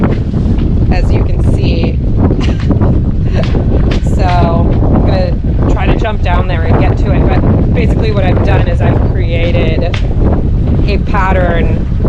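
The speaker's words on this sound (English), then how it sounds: "It's pretty windy, as you can see." Strong gusts buffet a microphone out on a boat dock, a continuous heavy low rumble that goes on for the whole stretch, with someone talking steadily over it.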